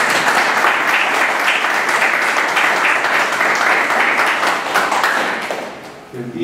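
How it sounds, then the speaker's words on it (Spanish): A conference audience applauds in a dense, steady burst of clapping that holds loud and even, then thins and fades just before the end. "un aplauso por ustedes"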